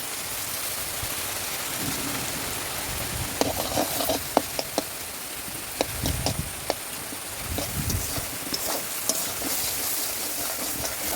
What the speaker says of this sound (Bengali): এটাকে ভালো করে কষাতে হবে মাছগুলো দিয়ে দেবে